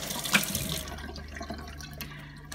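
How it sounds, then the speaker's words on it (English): Warm or cool water rinses out a bottle, a short splashing gush from a tap at first that settles into a softer, steady running flow. "quick rinse with a bit of warm or cool water"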